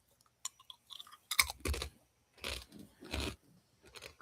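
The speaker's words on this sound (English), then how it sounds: "I'm gonna move my microphone away from my face while I'm eating, so you don't hear me just crunching as much" Someone eats crunchy food with the microphone moved away, giving a few irregular crisp crunches and chewing bursts with quiet gaps between them, moderately close and alone.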